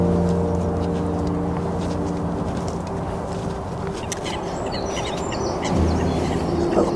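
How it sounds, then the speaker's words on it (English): Birds call from a lake where a mallard and a coot are present, with soft quacks and coos over steady outdoor background noise and a continuous low hum throughout. "Little birds here, or ducks."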